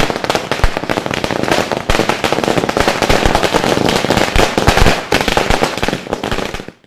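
A long, loud string of firecrackers crackles and bursts in rapid, dense succession during a women's wing political celebration, sharp pops piling up without pause before cutting off at the end.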